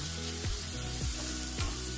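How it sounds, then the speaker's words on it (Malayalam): Masala with a little chilli powder sautéing in hot oil, a steady close sizzle and fry with a few scraping stirs of a spoon through it. "ഇതിട്ട് നന്നായിട്ടൊന്ന് വഴറ്റി കൊടുക്കാം."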